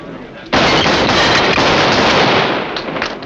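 A gunshot in an old-time western radio drama, a single loud crack at about half a second followed by a sustained roaring burst of noise that fills the rest of the clip.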